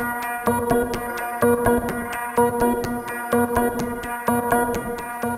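A produced electronic melody built from a beep, shaped with a ring shifter, delay, reverb and compression, repeats in a dense rhythmic pattern of echoing synthetic tones, loud and continuous with no speech.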